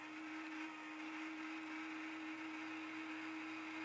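A motorized antenna on a 1979 Class C motorhome runs back to its preset position, giving a steady, even electric motor whine with a constant pitch that holds unbroken throughout, close by and with no talking.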